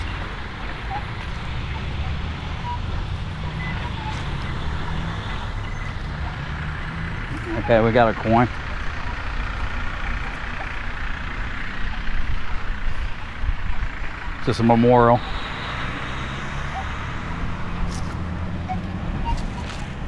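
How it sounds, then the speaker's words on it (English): Busy intersection with constant car and truck traffic, a steady broad rumble of passing vehicles in the background while people talk nearby, with a couple of short metallic electronic beeps standing out. "It's like the most busiest intersection. I mean, it's just like constant cars."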